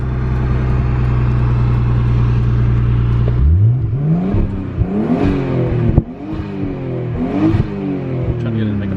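A boosted Nissan Skyline engine climbs through repeated rising revs as the car accelerates and shifts, loud and close from inside the cabin, with some talk over the engine.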